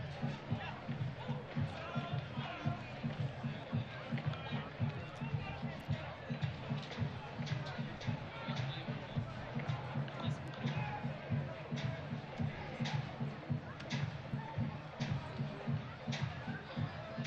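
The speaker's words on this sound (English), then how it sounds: "Faint sounds of the drums across the park from the Magic City Brigade" Magic City Brigade supporters drumming across the park at a Birmingham Legion FC soccer match against Charlotte Independence, a steady distant thumping beat over faint crowd murmur.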